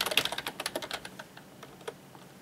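Rapid clicking keystrokes on a computer keyboard, fairly close and quiet, come in a quick burst that slows to a few scattered taps.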